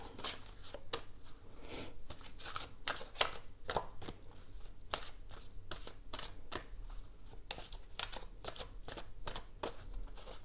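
Oracle cards are shuffled by hand in quick, irregular riffling bursts and taps, close and fairly soft, continuing throughout without talk.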